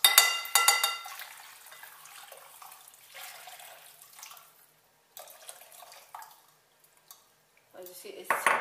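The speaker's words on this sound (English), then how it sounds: "Now I'm adding my boiling hot water." Boiling water, about one liter, splashes and pours into a bowl of couscous with clinks of dishware, then thins to a quieter trickle with a few more knocks near the end.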